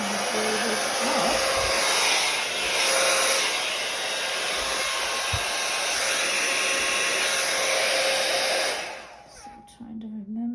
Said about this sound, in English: I got my little pinky dryer here.